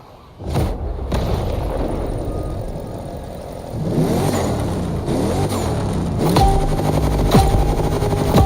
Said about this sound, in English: they built a drift machine out of a DeLorean?